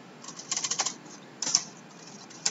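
Keys clattering on a computer keyboard in quick bursts of several presses, a short pause, then a few more taps, close and clear with no speech over them.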